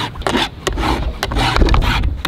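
A hand file rasps across the teeth of a chainsaw chain in a quick series of loud, close, rhythmic scraping strokes, one after another with short gaps between.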